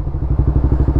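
Honda CB 300F Twister motorcycle fitted with a GRS exhaust, riding on a highway: a loud, close, steady engine drone with a rapid, even pulsing beat throughout.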